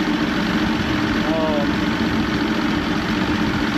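An Evinrude 150XP outboard motor on a McKee Craft boat idles steadily, with a constant low engine drone throughout and a brief faint tonal chirp partway through.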